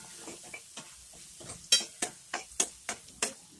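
Potatoes frying in a pan are stirred with a utensil, giving a rhythmic series of scraping strokes about every third of a second over a low, steady sizzle, close and fairly quiet, with no talking.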